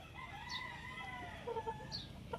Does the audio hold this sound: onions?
no